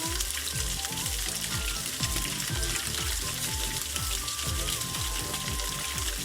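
Fish fry in a pan, a steady, dense sizzle with crackling oil popping continuously and close, with faint tonal kitchen sounds drifting above the frying.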